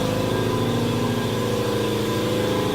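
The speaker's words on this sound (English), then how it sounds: "Alright, so now we got the compressor running." An air compressor runs steadily in a garage, a loud continuous mechanical drone with a rhythmic low-frequency pulsing from the motor and pump, heard close and alone with no talking.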